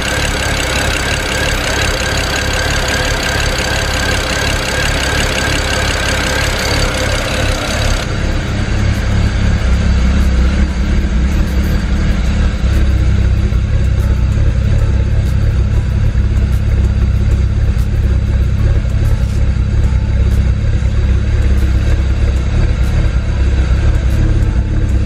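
BMW engine idling roughly with a failed oxygen (air-fuel ratio) sensor, misfiring and running rich, giving a steady, choppy low rumble close up with no talk.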